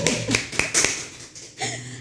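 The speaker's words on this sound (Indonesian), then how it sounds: "Boleh tepuk tangan dulu biar ramai." A talk-show audience at a hospital health talk claps hands, giving a handful of sharp separate claps and taps followed by a short burst of fuller clapping near the end.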